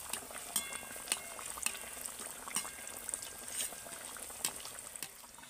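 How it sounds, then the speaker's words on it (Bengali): Whole-potato pompoms deep-fry in oil over a medium flame, giving a faint, steady bubbling hiss broken by scattered crackles and pops. "মাঝারি আঁচে আস্তে আস্তে কিন্তু একদম মুচমুচে করে পম্পমগুলো ভেজে নিতে হবে"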